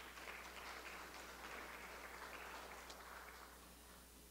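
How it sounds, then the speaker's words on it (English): A conference audience applauds a speaker at a consumer-protection and surveillance-economy event, with a faint, even wash of clapping that holds steady and then tapers slightly at the end. "So can we give a round of applause"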